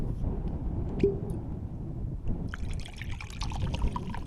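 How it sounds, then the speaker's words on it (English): Liquid trickles and pours into a drink in a home kitchen, a soft steady dribble running for a few seconds over a background rumble. "As he pours"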